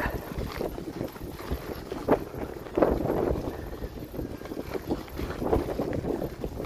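Wind blowing across the mic in uneven gusts, a low rumbling rush that swells and eases over a few seconds.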